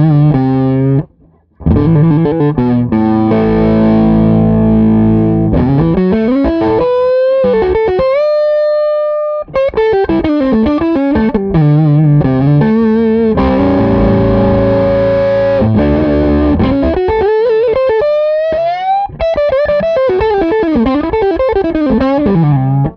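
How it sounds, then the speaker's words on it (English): Heavily distorted electric guitar solo on the neck pickup, PAF 1959-style humbuckers into high metal gain, playing sustained bends and fast runs loudly and continuously with no voices. "we'll go into some solo heavy gain stuff"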